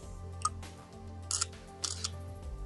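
A Samsung WB350F compact digital camera fires its shutter sound effect several times, short crisp clicks spaced apart over a low steady background hum, close and fairly quiet, with no talking.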